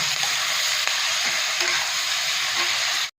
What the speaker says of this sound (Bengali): পেঁয়াজটাও কিন্তু আমি ভালোভাবে ভেজে নেব।